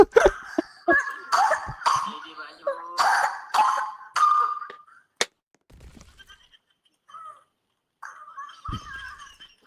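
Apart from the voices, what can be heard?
child coughing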